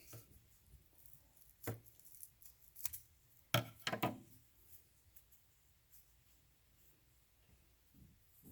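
Scissors snip the end of a hand-rolled cigar with a few quiet, crisp cuts clustered together, then a faint rustle of handling in an otherwise quiet room.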